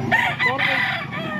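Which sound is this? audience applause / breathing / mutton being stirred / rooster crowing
rooster crowing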